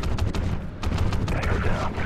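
Scattered gunshots in the video game Call of Duty Ghosts, a string of moderately loud separate cracks and short bursts over a steady low rumble of background noise.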